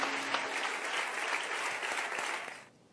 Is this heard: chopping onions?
no